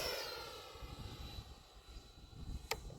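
An E-Flite 80mm F-16 Thunderbird RC jet flies past with a steady ducted-fan whine and rushing air, fading slightly, followed by a brief sharp transient near the end.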